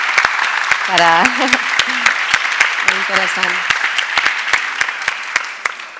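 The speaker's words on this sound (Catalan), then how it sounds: "Un aplaudiment" Audience applause at a round-table discussion: scattered individual claps ringing out steadily, with a brief spoken remark from someone early on, gradually thinning toward the end.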